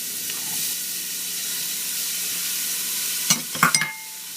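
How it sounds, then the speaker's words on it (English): Celery and onions sautéing in coconut oil in a stock pot for mushroom soup, a steady close sizzle with a few sharp clinks of a utensil stirring near the end, no voices. "we're going to saute them for several minutes until they start to soften"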